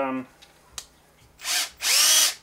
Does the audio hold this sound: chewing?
no